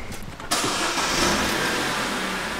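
A taxi's car engine catches half a second in and then runs steadily, a loud close rumble with no talking.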